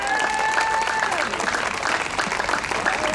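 A congregation at a Baptist church crusade service in Damien applauds, a dense, loud wash of clapping that continues steadily throughout, with a voice speaking briefly over it at the start.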